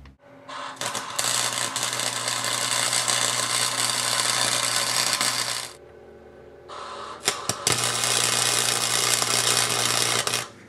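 An angle grinder grinds metal on a vacuum holder to clean it before tack welding, whining loudly and steadily for about five seconds, pausing briefly, then starting up again for a second long run.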